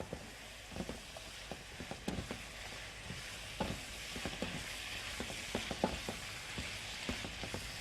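Half an onion sizzling in a pan with steak for pepper steak, a faint continuous crackle dotted with light scraping and stirring taps.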